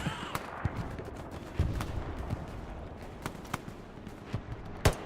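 MG42 machine gun fire in the World War II shooter Hell Let Loose, sharp separate reports scattered across a steady battlefield rumble, with one louder crack near the end.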